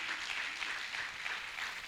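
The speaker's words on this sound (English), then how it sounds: "Let's give him a round of applause." Applause from an audience at the opening ceremony of a national week celebration, a steady, even patter of many hands clapping at moderate level throughout.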